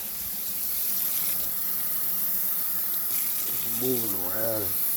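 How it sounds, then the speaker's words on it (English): Water running steadily from a tap into a pot for homemade turkey broth, a continuous close rushing stream with a voice starting to speak over it near the end. "just throwing some water on there"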